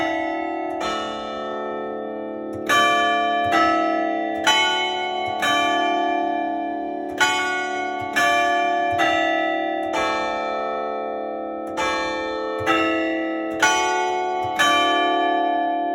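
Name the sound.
carillon church bells ringing the hour in a belfry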